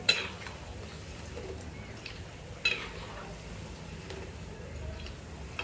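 Dal and rice gulab jamun frying in hot oil give a soft, continuous sizzle, broken by a few sharp clinks of a utensil against the pan.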